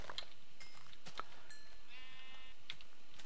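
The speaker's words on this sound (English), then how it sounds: "Don't let these sheep get away." Sheep bleating in the Minecraft game, several short separate bleats scattered over a few seconds, fairly faint against a quiet background.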